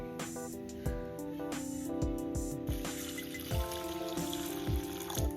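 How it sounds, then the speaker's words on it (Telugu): Water sloshing and splashing in a bowl as flattened rice (poha) is washed by hand, repeated close splashes and drips over a faint background tone, no talk. "వీటిని ఒకసారి కడిగేసుకోవాలి."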